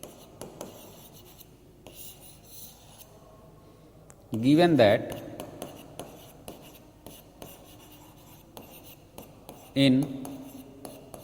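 A pen scratches on paper in a Class 9 math lesson on quadrilaterals, soft repeated strokes under a teacher's steady talking, with two louder bursts of sound in between.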